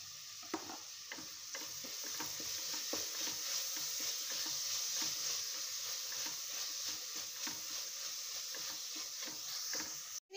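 Two green chillies frying in hot oil for beef curry, a steady close sizzle with rapid crackles and stirring scrapes throughout, ending with a brief clunk.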